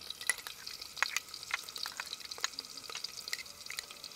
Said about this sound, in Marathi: हा कढीपत्ता हे जरा चांगलं आपण परतून घ्यायचं.